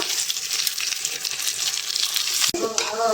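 Three eggs with tomato and coriander stir-fried for noodles give a dense, close sizzle with stirring, broken near the end by a single sharp knock before the hiss carries on.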